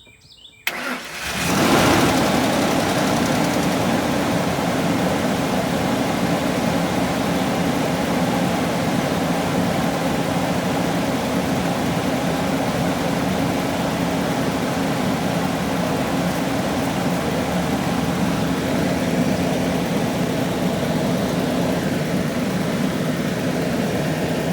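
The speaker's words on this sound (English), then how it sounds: "we use the MegaXMR Jump Starter to jumpstart our Ford Expedition that's been sitting for a while" A Ford Expedition that has sat unused for a while cranks briefly after a jump start, then its engine catches and settles into a loud, steady idle that continues for over twenty seconds with no one talking.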